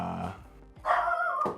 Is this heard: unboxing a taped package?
no